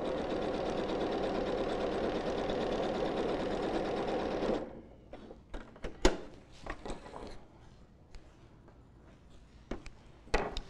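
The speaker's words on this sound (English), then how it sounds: "So again, this is sewing close to the edge." Sewing machine stitching boning close to the edge of a prom dress bodice, running steadily and loudly for about four and a half seconds, then stopping, followed by scattered clicks and handling knocks of fabric and machine.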